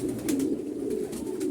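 A yellow Maltese pigeon coos in a loft, a close, low, rolling coo repeating in soft pulses throughout, with no voices.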